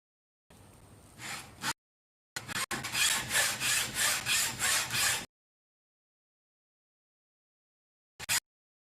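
A fine saw cuts through 1.6 mm metal wire for ring-making: a short rasping burst, a pause, then about eight quick, even back-and-forth strokes, close and clear, ending with one brief final stroke after a silence.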